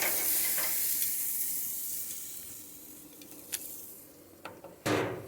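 A salt-and-peppered steak sizzles steadily in a hot pan, a constant bright hiss with a few sharp spits and a louder crackling burst near the end, no voices.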